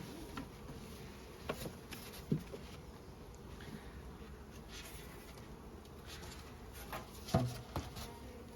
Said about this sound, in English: Now there are a lot more bees in here than what we started with.